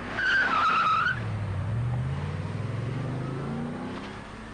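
A Tatra T613's 3.5-litre air-cooled V8 drives past, its loud engine note sweeping down in pitch with a brief tyre squeal near the start, then holding a steady, slowly fading rumble.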